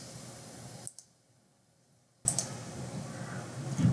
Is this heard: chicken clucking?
no